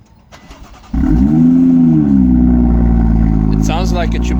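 A sports car engine cranks and fires after a short quiet stretch, jumping to a loud, steady idle that stays up close and strong, with a brief rev near the end.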